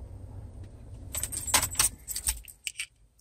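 Car keys for a Jeep jangle close by in short metallic bursts, with a low idling engine hum underneath and no talking.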